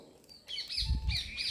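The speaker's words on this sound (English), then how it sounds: "So this is a crow." A crow gives two harsh, raspy caws, fairly clear and at moderate distance, over quiet background noise.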